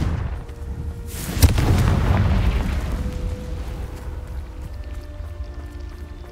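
Confringo blasting spell in the video game Hogwarts Legacy, a single sharp crack followed by a rumbling fiery burst that swells and slowly fades over a few seconds, moderately loud amid quiet game ambience.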